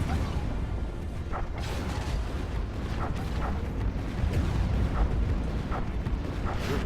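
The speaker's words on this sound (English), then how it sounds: "There's a big explosion." Explosions in a space battle in the video game Stellaris, rumbling booms with repeated sharp bursts and pops over a dense, roaring backdrop, loud and continuous.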